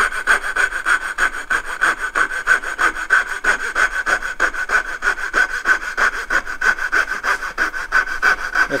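Hand saw cutting wood dovetails, a close, steady rasping rhythm of repeated push strokes running throughout with no talking.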